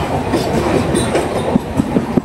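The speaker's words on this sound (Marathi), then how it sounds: "आपण आहे आता आशिया खंडातील सगळ्यात मोठ्या बोगद्यामध्ये खरबुडे टनल." The 10105 Sindhudurg Express running through the Kharbude tunnel on the monsoon Mumbai to Ratnagiri route, with a loud, steady rumble and a regular clickety-clack of wheels echoing off the tunnel walls.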